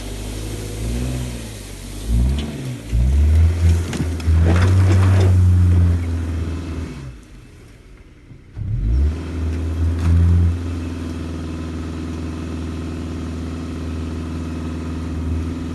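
A Subaru AWD car engine with CVT revs up repeatedly climbing a hill in low with X-Mode on and VDC off, rising and falling in loud surges, then drops away briefly before settling into a steady, rumbling drive.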